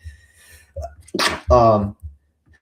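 A single sharp sneeze preceded by a quick inhaling breath, close and clear, with a brief bit of talking right after.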